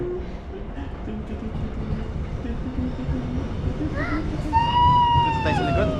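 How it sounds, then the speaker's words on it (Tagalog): A train pulls in at Nami Island, South Korea, with a loud, steady rolling rumble close by; high metallic brake squeals rise and hold toward the end, while people, including a child, talk nearby. "Ayan na yung train."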